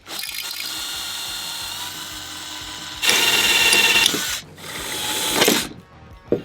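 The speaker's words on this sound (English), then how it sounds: "we just have to drill out these two right here" A power drill drilling out parts in a crashed MINI's engine bay whirs steadily in bursts, with a louder high-pitched grinding stretch that stops briefly, then resumes, close by.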